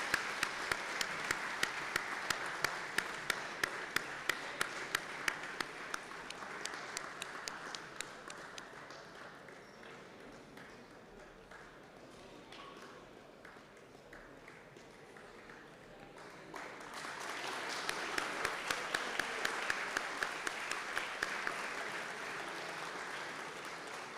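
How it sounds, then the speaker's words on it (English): An audience at an AI olympiad opening ceremony applauds for a national delegation, sustained crowd clapping in a large hall that swells, dips in the middle, then rises again, with rhythmic claps standing out. "Next, applause for United Arab Emirates"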